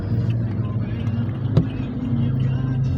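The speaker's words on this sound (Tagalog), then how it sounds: "Alauna na, dami pa rin sasakyan" Road traffic rumbles on a busy road at night, with car engines droning steadily and a brief louder thump midway, while a person talks over it.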